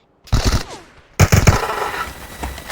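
Video game gunfire from a Vector weapon in a shooter match, two loud, close bursts of rapid automatic shots separated by a short pause, the second trailing off with echoing decay.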